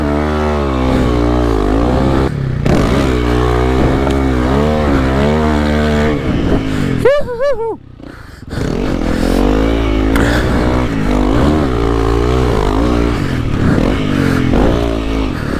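A Honda CRF300L dual-sport motorcycle with K-Tech fork springs revs hard while being ridden. The engine whines up and down loud and close, drops out briefly when the throttle closes, then returns as a steady drone.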